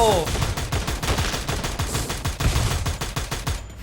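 Rapid automatic gunfire from the Free Fire battle royale game, a continuous rattling burst of closely spaced shots running nearly the whole stretch, loud and up front, with no talk over it.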